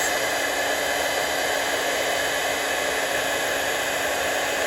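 A hot-air heat embossing gun blows continuously for several seconds, a steady loud hissing roar close by, alone with no talk.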